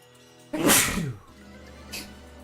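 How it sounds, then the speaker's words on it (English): One loud, close sneeze bursts out sharply, followed by a brief, softer exhale or sniff about a second later. "Oh, hold on, gotta sneeze."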